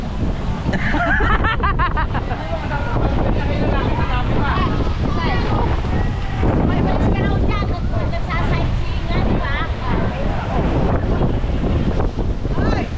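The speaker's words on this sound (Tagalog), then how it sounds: "napakalakas ng hangin dito" Strong wind buffets the microphone with a constant roaring rush, while people talk and laugh underneath.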